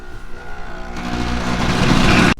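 A blender whirs through a spicy chicken marinade: a steady motor hum that builds and grows louder after the first second, then cuts off abruptly near the end.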